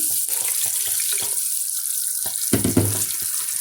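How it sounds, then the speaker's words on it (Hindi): Water is poured into a pan of fried onion and ginger-garlic paste masala for chicken tikka handi, a short trickle followed by a louder splash and sizzle near the end. "अब मैं इसमें थोड़ा सा पानी ऐड करूँगी"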